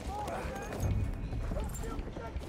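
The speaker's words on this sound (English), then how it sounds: "Horse is over here." A horse clip-clops in a video game, its hooves a soft rhythmic patter mixed low beneath louder talking from players.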